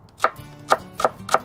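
A knife chops vegetables on a board into thin half moons for a tuna and chickpea salad, four crisp close cuts at an uneven rhythm.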